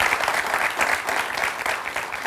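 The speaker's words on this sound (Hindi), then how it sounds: "चंदन के लिए जोरदार ताली हम सब लोग बजाएंगे।" An audience breaks into sustained, dense applause for Chandan, a young student, at a gathering. The clapping is steady and fairly loud for the whole stretch, with no voices over it.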